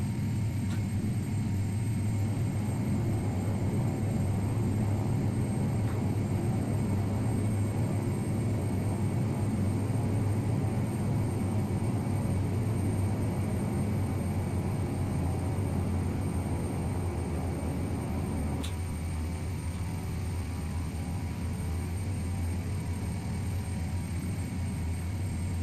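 An Embraer 120 turboprop touching down and rolling out in the Prepar3d flight simulator, its engines a steady, low droning rumble with a constant hum, one brief click partway through and no talk.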